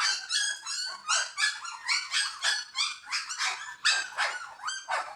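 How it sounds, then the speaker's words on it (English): Puppies on Thailand's Monkey Mountain yap and bark in a quick, steady series of high-pitched yips, close and clear with a slight whimpering edge, and no talking over them. "But you guys are beautiful puppies."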